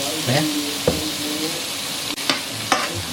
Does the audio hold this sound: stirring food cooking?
yes